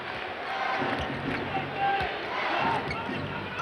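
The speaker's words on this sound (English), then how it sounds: "maybe the biggest cheer we've heard from the Forum crowd right now" The Forum crowd at a 1989 NBA Finals basketball game between the Pistons and the Lakers cheers loudly in a continuous roar, swelling in the middle, while an announcer talks over it.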